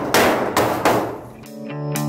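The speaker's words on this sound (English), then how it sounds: "I did say you don't need a hammer, but it comes in handy for this" Three sharp hammer blows tap a steel trailer panel into place, evenly spaced and loud, followed by a ringing metallic tone and a final light knock.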